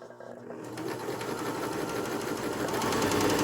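Sewing machine run with the presser foot lowered, starting after a short pause and building into a dense, rapid mechanical whir that grows louder, close by, with some speech mixed in.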